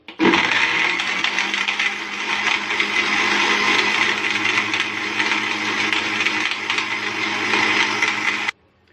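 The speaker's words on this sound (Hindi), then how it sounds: "सॉफ्ट ड्रिंक डालने के बाद हम इसको फ्यू सेकंड्स के लिए फिर से ब्लेंड कर लेंगे" A blender whirs loud and steady for about eight seconds, blending a mint margarita after soft drink is poured in, then cuts off abruptly near the end.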